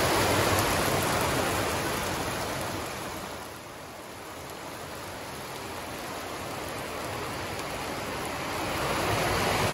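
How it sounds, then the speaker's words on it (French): The Doron river flows beneath a stone bridge in Beaufort, a dense, steady roar of rushing water heard close and loud throughout, dipping slightly midway, with no voices. "Et là, nous sommes en dessous du pont. Et face à la rivière le Doron."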